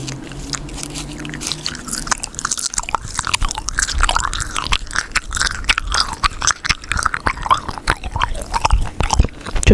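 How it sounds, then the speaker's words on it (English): Gum chewing close to the microphone, with continuous wet, sticky smacks and crunchy squishes in an irregular rhythm that fill the whole stretch loudly, without talking. "Another trigger I cannot bear to do or hear is gum chewing."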